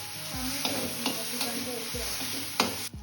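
Diced tomato with a little salt hits a hot pan for a restaurant-style palak paneer gravy, giving a steady close sizzle broken by a few sharp scrapes and clinks of a spoon stirring against the pan.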